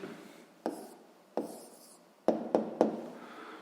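A pen writes out the answer to a sixth-grade maths exercise: quiet scratchy strokes with a handful of sharp taps spaced irregularly, close and alone.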